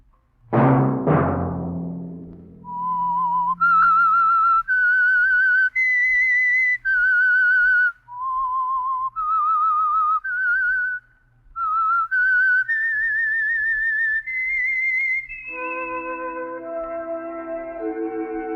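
A lone whistler carries a bright melody of rising and falling notes, the theme of the vintage radio drama The Whistler, loud and close, before a sustained musical chord takes over at the end.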